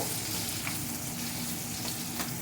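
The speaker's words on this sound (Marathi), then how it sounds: "त्याच्यामध्ये चिरलेला कांदा टाकू आपण. कांदा पण चांगला हलवून घेऊया." Chopped onion is frying in a pan over lowered gas heat while it is stirred, giving a steady, close, dense sizzle that continues unbroken with no voices.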